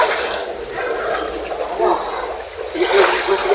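Motorbike riding through shallow water, with a steady spray of splashing and churning, people talking under it.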